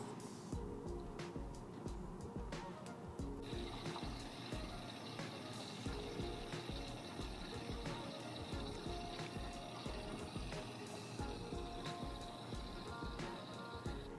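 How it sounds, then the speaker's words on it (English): A hose feeds water into the fresh water tank of a host truck camper RV, making a steady, faint, continuous rushing and trickling flow with a faint pump-like hum. "As always, let the water flow a little bit before you plug in your stuff."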